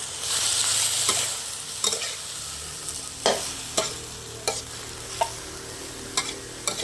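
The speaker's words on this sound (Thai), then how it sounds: "จ้าเราก็ผัดคลุกเขาให้เข้ากันเลยนะคะ" Chinese cabbage and pork stir-fry in a hot pan. Loud sizzling opens the clip and then settles, broken by a series of sharp, regular spatula clacks as the food is tossed and mixed.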